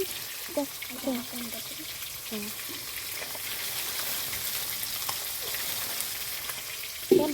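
Fish frying in a pan on a clay stove inside a mud house, a continuous close sizzle with scattered spatters and stirring clinks while someone talks intermittently over it.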